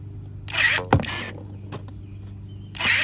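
A cordless Avhrit 21V brushless electric pipe cutter whirs through 1-inch Schedule 40 PVC, with short close motor bursts, a sharp snap as the cut finishes, and a final buzz.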